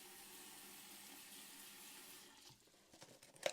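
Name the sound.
water being added to a pot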